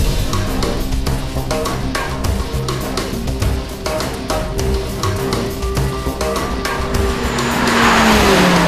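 An Audi R8 with a Lamborghini-sourced V10 and Quattro all-wheel drive launches hard with a loud, continuous engine roar and rising revs. Tire squeal comes in toward the end, close and alone with no voices.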